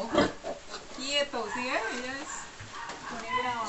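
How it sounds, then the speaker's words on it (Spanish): Young piglets on a farm make soft oinks and squeals, close by, while a person talks over them. "Ey, la marranita comiendo."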